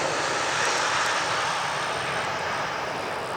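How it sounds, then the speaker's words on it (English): An MD-80 or MD-90 airliner on landing approach at Atlanta airport produces a steady, loud broadband engine roar that holds strong and constant throughout, with no talk over it. "Here comes another MD 80 something or 90 something in for a landing"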